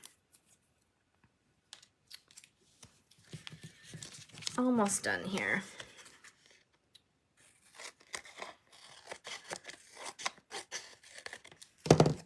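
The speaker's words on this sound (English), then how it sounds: "I prefer to use scissors when I can." Scissors snip through card paper in short bursts, close and crisp, with a crumpling, crinkling texture, while a person talks quietly before and after.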